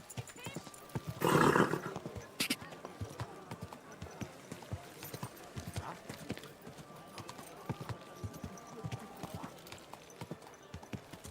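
Horse hooves clip-clop at a walking pace in Kingdom Come Deliverance 2, a steady muted rhythm with a loud burst early on, under occasional spoken game dialogue.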